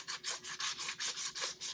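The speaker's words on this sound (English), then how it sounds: "if you wonder what I'm doing, I'm sanding the edges while I'm talking" Rhythmic rasping strokes of sandpaper rubbed back and forth along the edges of a resin side scoop for a 1965 Ford Mustang, about ten even passes, close up and steady.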